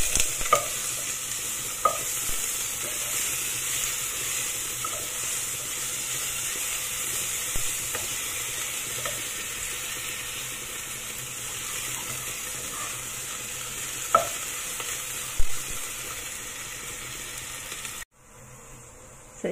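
Ginger and garlic fry in oil in a pan for Filipino chicken congee, a continuous close hiss broken by scattered clicks from stirring, before it cuts off abruptly near the end.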